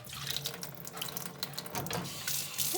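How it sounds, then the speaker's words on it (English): Tap water runs steadily into a sink, rinsing Coca-Cola off a rusty pan; a continuous close splashing rush with shifting texture as the pan moves under the stream, no voices. "So let's rinse it a little."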